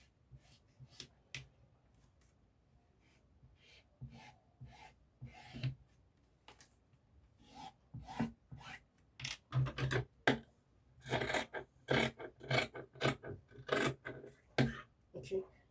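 Fabric pattern pieces for a drawstring jumpsuit being cut out with shears, giving irregular snipping and rasping cuts that start sparse and faint, then grow louder and denser near the end, with no talking.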